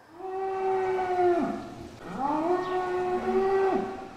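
A bull mooing at a farm in Zeeland, two long drawn-out bellowing moos, loud and close, each falling in pitch at the end, with no voices.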